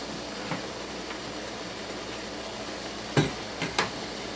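Metal lids go onto jars of canned grapes in light syrup, a few close clinks and taps near the end over a constant background hum.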